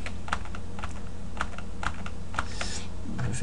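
Computer keyboard shortcut keys tapped during 3D UV layout editing: a steady run of sharp, close key clicks in a quick irregular rhythm, heard on their own without speech.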